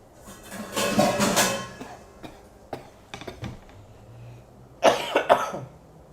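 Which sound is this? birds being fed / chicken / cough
cough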